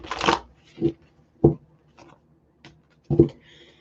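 Tarot cards are shuffled and dealt out in short papery bursts: one long riffle, then separate snaps as cards land one by one, close and clear in a quiet room.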